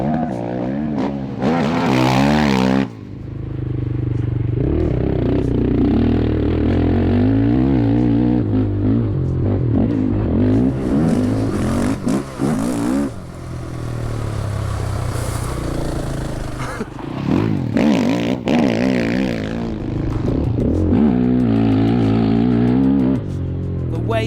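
A GP sidecar racing outfit roars around a track, heard from onboard with the engine loud and close, revving hard through gear changes and surging on acceleration, with brief wind-blasted gaps and some talk.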